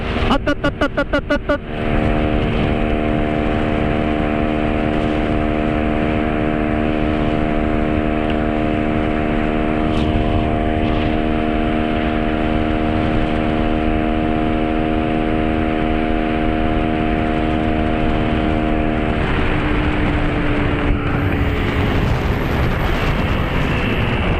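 A Honda Pop 110i motorcycle runs flat out at top speed, its engine a steady sustained drone with constant wind noise close to the rider, easing off near the end.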